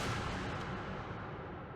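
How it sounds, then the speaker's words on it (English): A single gunshot booms in the horror video game Mouthwashing, a loud, broad blast whose rumble fills the short moment with no voices. "It was quiet until we hear one last gunshot."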